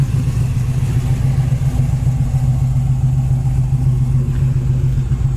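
A 1979 Pontiac Trans Am idles through a new dual exhaust with a deep, steady rumble, low and continuous throughout with no talking.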